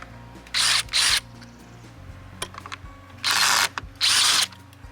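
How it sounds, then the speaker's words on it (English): Screws being tightened on a Palomino progressive actuator with a power driver, four short loud whirring bursts in two pairs separated by pauses with faint clicks. "We'll tighten our screws down all the way."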